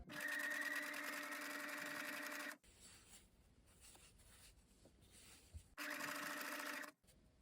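A sewing machine stitching thick denim with a long stitch length, running in two loud close bursts of rapid whirring separated by a quiet pause with faint handling noises.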